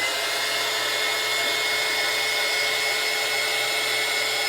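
A hair dryer blows hot air steadily over a painted doll torso coated with heat-set paint and matte varnish, its loud, unbroken whoosh holding level throughout with no pauses.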